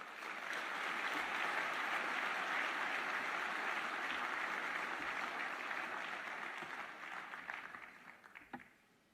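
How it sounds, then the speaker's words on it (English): A large audience at an awards dinner gives sustained, dense applause that holds strong for several seconds, then gradually thins into scattered claps before stopping. "Ladies and gentlemen, a huge round of applause for the NFF Legacy Award recipients."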